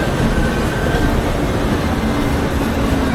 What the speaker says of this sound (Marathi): इकडे ट्रेन आले